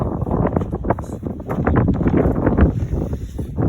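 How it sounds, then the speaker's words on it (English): Strong gusty wind buffets the microphone outdoors while a Coleman tent trailer is being taken down, producing continuous loud rumbling and flapping bursts with no clear speech. "I got a lot of wind today, so this is gonna be a bit tricky"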